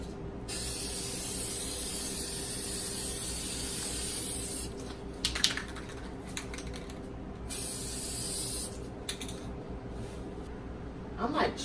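Rust-Oleum appliance epoxy hisses from a spray can onto a washer and dryer in long steady bursts, each broken by brief pauses and faint rattles of the can.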